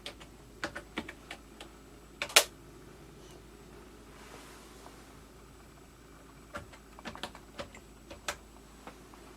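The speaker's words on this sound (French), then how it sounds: "on tape notre code à 4 chiffres" Keys are pressed on a Monetel card payment terminal keypad entering a 4-digit code, in a few short bursts of sharp clicks separated by pauses, close and quiet.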